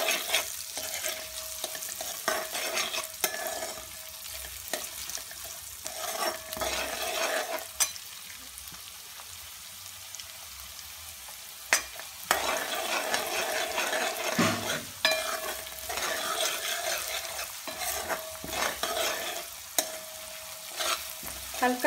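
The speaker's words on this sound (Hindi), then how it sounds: "प्याजां नूं भी आपां हल्का फ्राई कर लेंगे, एक दो मिनट वास्ते पका लैंदे आं" Onions frying in a pan for Mumbai street-style pav bhaji: a continuous sizzle with repeated scraping stirs and occasional sharp utensil knocks against the pan, close and steady, no talking.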